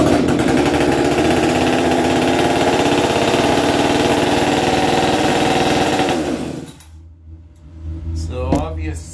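A Husqvarna 550xp chainsaw with an auto-tune carburetor and a suspected air leak idles loudly and steadily up close, then cuts off abruptly, leaving quieter handling noises and a brief clatter.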